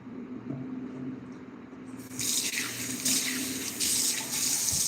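Hot water runs from a kitchen tap during cooking prep, starting as a faint trickle over a low background hum, then gushing louder and steadily into the sink for the rest of the clip.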